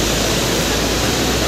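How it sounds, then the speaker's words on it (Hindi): A waterfall flowing into the Lohit river in the Anjaw district hills gives a steady, loud, broadband roar of rushing water that fills the whole short stretch without pause, with no voices over it. "ये झरना है और ये झरना डायरेक्ट जाके लोहित रिवर के साथ मिल जाते हैं।"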